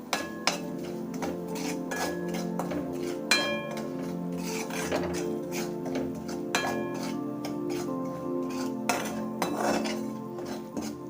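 Corn poha chivda with sugar and amchur powder is stirred in a pan, giving repeated metallic clinks and scrapes of a spoon against the pan over a continuous low background hum.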